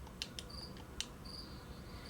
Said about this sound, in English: if you hear a cricket chirping, sorry